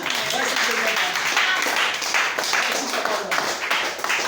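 A church congregation at a French-language service claps and cheers in a sustained, fairly loud burst, with voices calling out over the applause.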